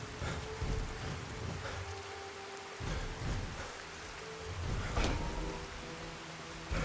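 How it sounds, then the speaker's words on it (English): Steady rainfall patters across the Fallout: Tale of Two Wastelands wasteland, an even, moderately loud hiss of drops with low rumbling swells and a couple of brief sharper splashes, no voices. "Yep, we're getting a spot of rain."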